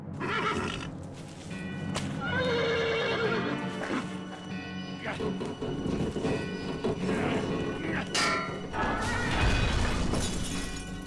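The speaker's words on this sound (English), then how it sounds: "Strong horse will pull them free." Horse in the Western shooter Call of Juarez: Bound in Blood neighs and whinnies as it strains to pull rusty bars free, with hoof clops, a shattering crash and sporadic game voices over a dense, loud mix.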